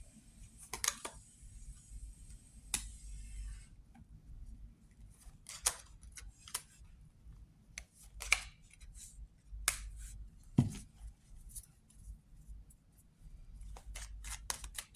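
Tarot cards shuffled and drawn during a reading: crisp, papery flicks and snaps come in scattered bursts, close and fairly quiet, with no one talking.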